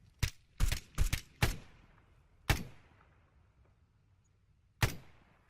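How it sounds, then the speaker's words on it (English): Sharp shots ring out in a video game: a rapid cluster of five close, loud reports, then two more single shots spaced seconds apart, each with a short decaying tail; no talking. "Contact southwest. Fire 3 shots."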